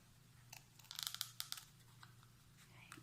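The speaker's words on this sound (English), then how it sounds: "I'm gonna go and cut out my first shamrock petal or leaf." Scissors snip through cardboard while cutting out a shamrock petal shape for at-home printmaking, a cluster of short crisp cuts and crunches near the middle, then quieter handling.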